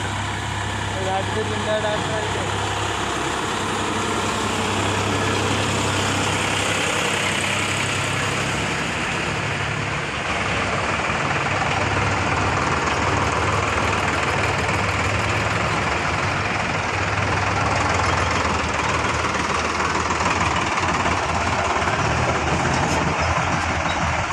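A tractor's heavy diesel engine idles steadily throughout, a constant low rumble with people talking over it nearby.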